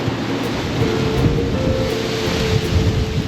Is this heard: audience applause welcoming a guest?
no